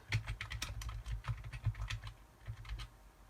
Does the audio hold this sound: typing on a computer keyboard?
yes